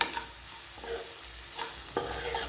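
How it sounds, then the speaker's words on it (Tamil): Onion sautés in a pan for spinach masiyal: a dense, steady sizzle with a few sharp spatula scrapes and knocks against the pan, close and fairly loud. "இப்போ 1 நிமிஷம் இந்த உள்ளி வதங்கட்டும்"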